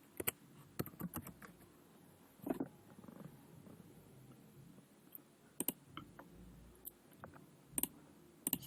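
Scattered clicks of keys on a computer keyboard, tapped in short irregular bursts with pauses between, quiet and close against a faint background hum.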